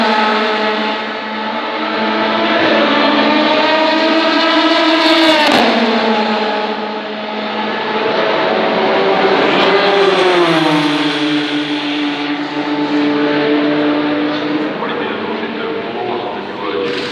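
A race car approaches on the circuit during the 24 Hours of Le Mans test day, its engine note rising and sliding in pitch as it draws near, loud and sustained with a whooshing pass.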